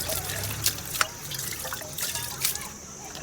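Water trickles and splashes steadily from a tap, a soft continuous running with a few louder drips, while voices murmur faintly in the background.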